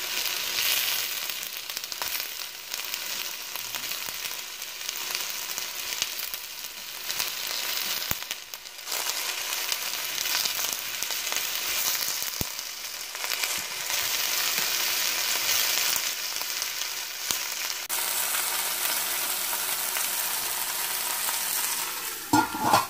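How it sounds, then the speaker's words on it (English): Pork pieces laid over onions in a pan sizzle steadily and fairly loudly at close range, with occasional stirring and scraping sounds over a long continuous fry. "So we're adding the pork right now. So just arrange them on top of the onions."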